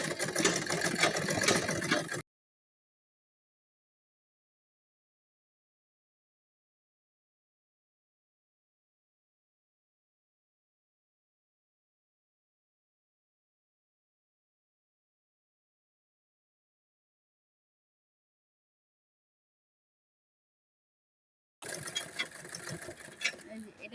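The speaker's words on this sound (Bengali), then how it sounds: "এটা কিভাবে সেলাই করতেছি" A sewing machine stitching a blouse whirs in two brief stretches, one at the very start and one near the end, separated by a long silence.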